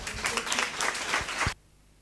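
A short round of applause from a crowd claps briskly for about a second and a half, then stops abruptly.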